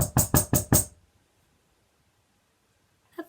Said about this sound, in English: She ran all the way up to the door and knocked on the door.